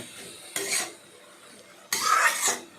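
Banana stem curry with chillies and turmeric is stirred in a pan: two short, close bursts of scraping and rustling, separated by a quieter pause with a faint sizzle.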